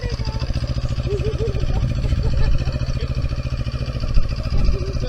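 A CF Moto 700 cc motorcycle engine runs steadily nearby with a throbbing, even pulse, rising slightly in the middle and toward the end.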